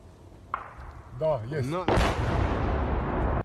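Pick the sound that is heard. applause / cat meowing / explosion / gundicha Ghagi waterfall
explosion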